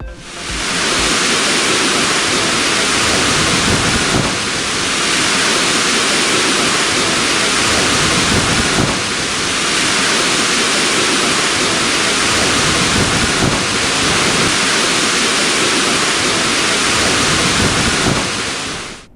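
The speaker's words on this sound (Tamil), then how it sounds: "நாமக்கல் மாவட்டம் கொல்லிமலையில் பெய்த மழையால் ஆகாய கங்கை நீர்வீழ்ச்சியில் ஆர்ப்பரித்து கொட்டும் தண்ணீர்" Heavy water gushing down the Aagaya Gangai waterfall in the Kolli Hills after rain, a loud, steady, broadband roar that holds unbroken for the whole stretch with no voices.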